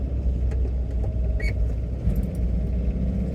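Low, steady engine rumble of a 1969 Mazda Carol under throttle, heard from inside the small car with faint rattles and clicks over the drone.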